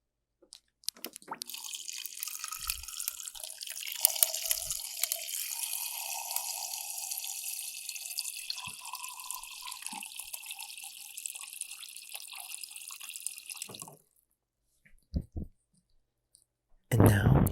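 Water pours steadily into a large cup packed with ice cubes, a continuous splashing hiss that runs for about thirteen seconds before cutting off, followed by a few scattered clicks.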